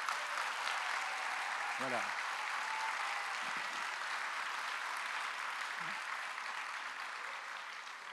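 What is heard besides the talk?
audience applause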